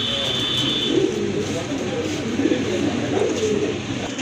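Pigeons coo in low, soft repeated phrases at close range, including Lahori pigeons held for sale, beneath steady background noise with a brief high whine early on.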